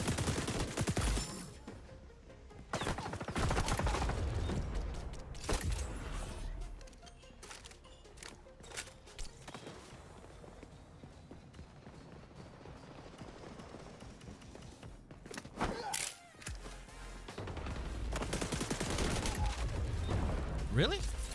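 Repeated bursts of gunfire in the shooter XDefiant, mid-distance and fairly loud, scattered across the span with lulls, under occasional talk and game sounds.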